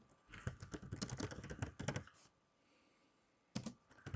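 Fingers type a search on a computer keyboard in quick, close bursts of clattering keystrokes, then a pause of near quiet before a few more keys are struck.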